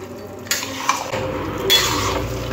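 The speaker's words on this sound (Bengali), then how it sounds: "কচু শাক এরকম নাড়তে নাড়তে একদম শুকনো করে" Taro leaves being stirred in a pan until dry, heard as a steady scraping and shuffling of the leaves against the metal. A couple of light utensil knocks come through a continuous, fairly loud cooking hiss.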